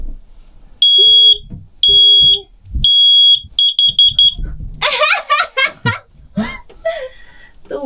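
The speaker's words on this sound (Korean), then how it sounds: "이게 원래 있던 일산화탄소 디텍터인데 얘가 작동을 안 하더라고요" A carbon monoxide detector test: loud piercing beeps, first three long tones, then a quick run of short rapid beeps, followed by people laughing and talking nearby.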